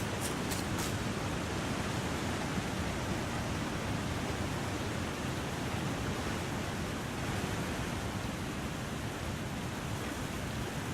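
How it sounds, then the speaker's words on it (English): A waterfall roars in The Long Dark, a loud, unbroken broadband rush of falling water that stays constant and close for the whole stretch, with a few brief ticks near the start. "So loud there with the waterfall."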